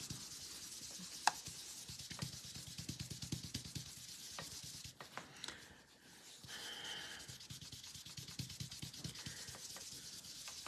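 Soft, steady scrubbing of a blending brush rubbing ink across paper in angled strokes for a scrapbooking craft, a close, even run of rapid brushy rubs with a brief pause midway.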